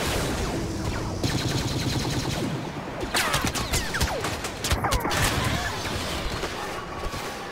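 MG42 machine gun in Star Wars Battlefront on Hoth, firing in loud rapid bursts amid other gunfire and crashing battle noise, close and dense for several seconds.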